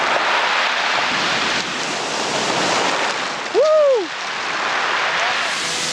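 Continuous rushing roar of ocean surf while surfing in Peru, mixed with wind buffeting the microphone, broken briefly by a short voiced exclamation midway.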